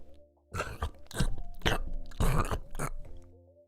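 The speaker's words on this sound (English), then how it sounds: "Go ahead, bro, chew louder on the mic." Loud, close-miked chewing and crunching right against a microphone, several bursts in a row with a faint hum behind.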